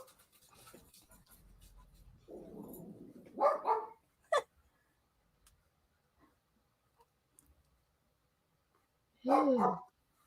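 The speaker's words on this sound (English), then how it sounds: "Are they both barking" A pet dog barks and growls faintly indoors, with a low rumbling growl followed by a few short barks and a later yelp-like bark, separated by quiet gaps.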